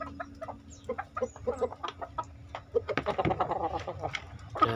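A group of brood hens clucks close by, with soft, irregular clucks and short calls in steady succession, growing busier and denser near the end, over a faint low hum.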